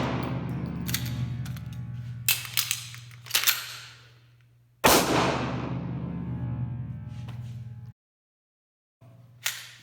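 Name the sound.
Sig P320 M17 pistol shots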